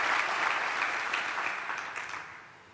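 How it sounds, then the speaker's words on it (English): A graduation ceremony audience claps in a broad, full round of applause that gradually fades toward the end. "Please give yourselves a massive round of applause."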